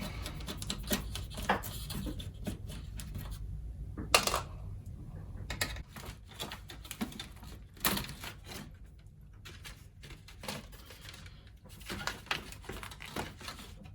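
Clicks, taps and plastic rattles while a Commodore 64 case is taken apart, scattered irregular handling noises, close and quiet with a few sharper knocks.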